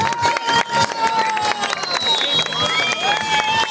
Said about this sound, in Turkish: Gürültülü alkışlar gelsin.